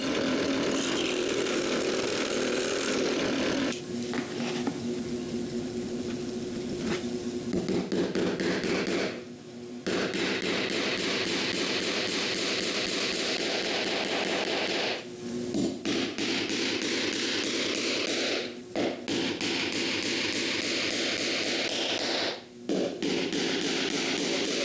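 A power saw cuts a slot in a wooden jig block for a Plinko game, a loud, continuous whine and rasp that runs the whole time with a few brief dips where the blade eases off.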